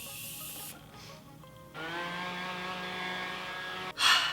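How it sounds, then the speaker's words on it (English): Face mist sprayed over the face from a spray bottle during a makeup routine: a soft broadband hiss opens the clip and a brief, louder spritz of mist bursts near the end, with tonal background sound in between. "I'm just gonna spray my entire face."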